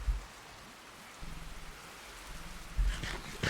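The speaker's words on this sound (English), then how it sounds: "Oh, starting to rain. We're in a giant swamp, so rain is not surprising." Rain falling in a swamp in Minecraft, a steady wash of drops with brief louder pattering bursts and a low rumble toward the end, moderately loud and with no voices.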